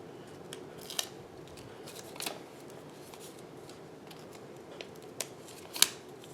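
Scissors trim a piece of cardstock in a few separate short snips, crisp and close, spaced irregularly over a quiet room background.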